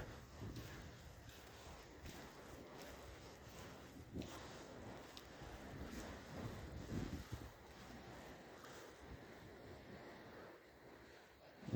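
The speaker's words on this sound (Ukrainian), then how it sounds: "Ось це чутно море" Steady broadband wash of sea waves on a shore lined with moored yachts, mixed with wind buffeting the microphone, continuous and moderately quiet, with no speech.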